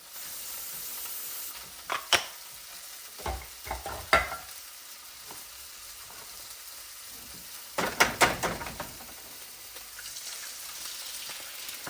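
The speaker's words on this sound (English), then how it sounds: "You should be sizzling by now." Pork roll sizzles quietly in a frying pan, with a few sharp scraping and clattering bursts of utensils against the cookware.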